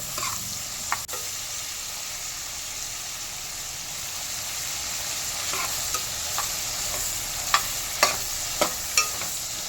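Tomatoes, green chilies and tamarind frying in a little oil in a pan, a steady soft sizzle and hiss with a few sharp stirring clinks and scrapes near the end, no talking.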